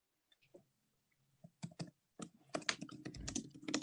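Quiet clicks and clatter, either keys being typed on a computer keyboard or dishes being rattled at home, start sparse and then grow into denser, louder bursts, heard up close with no speech.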